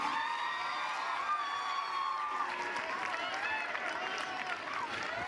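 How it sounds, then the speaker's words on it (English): Conference audience at a career expo session giving a round of applause, a steady moderate wash of clapping with some crowd cheering, heard somewhat distant in a hall. "Let's have a big round of applause one more time, everybody"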